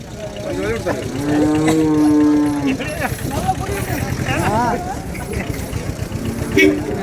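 Large cattle bellowing at the busy Vaniyambadi cattle market, one long, loud, drawn-out moo up close followed by shorter calls, over a constant hum of crowd voices and a faint idling engine.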